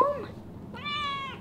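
A kitten at home gives two clear, close meows, a short one and then a longer rising cry, with little background noise.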